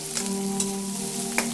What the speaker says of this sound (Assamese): মোৰ কেৰাহী ইতিমধ্যে গৰম হ'ল আৰু মই ইয়াত এতিয়া মোৰ পিঁয়াজখিনি ঢালি দিম।